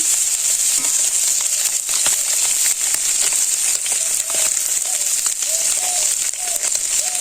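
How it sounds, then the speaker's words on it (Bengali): Hilsa fish frying in oil in a village kitchen, a continuous loud bright sizzle with scattered crackles and pops, alone without talk. "ইলিশ মাছ ভাজা"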